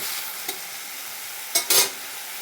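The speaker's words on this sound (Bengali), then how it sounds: "বেগুনটা ভাজা ভাজা করে নিচ্ছি।" Eggplant fries in a little oil over medium heat, giving a steady close sizzle with a soft stir early on and two louder scraping bursts near the end, with no voices.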